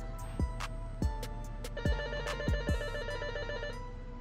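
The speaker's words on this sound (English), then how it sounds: "Here goes that phone again" A telephone rings in repeated electronic trill bursts, loud and close, with sharp thumping knocks hitting at irregular intervals underneath and no voices.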